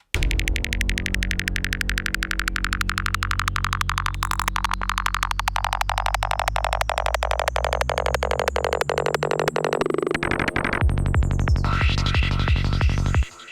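A dense, glitchy psytrance synth texture stutters rapidly and loudly throughout, with choppy digital bursts, ending in a sharp filtered sweep before cutting out.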